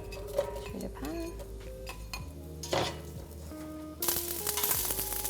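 Chopped onions and garlic fry in olive oil in a pan, with a steady sizzle under clinks and scrapes of a utensil stirring against the pan, and a louder burst of frying toward the end.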